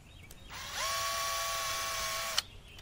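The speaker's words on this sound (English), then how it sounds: "I'm just drilling a little hole towards the top." A small drill bores a little hole near the top of a piece for a model Huck Finn raft, a steady high whine of about a second and a half that ends with a sharp click, close and alone.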